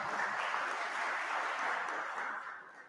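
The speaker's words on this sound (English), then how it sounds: "Everybody please give him a nice round of applause." Audience applause in a university auditorium during a science and spirituality talk, a dense, steady wash of clapping from a crowd that holds evenly and then tapers off near the end, fairly quiet and heard alone.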